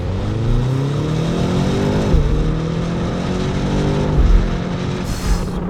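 A BMW XM engine revs up under acceleration while driving, a steady loud drone with rising harmonic sweeps that climb, dip at gear changes around two and four seconds, then climb again.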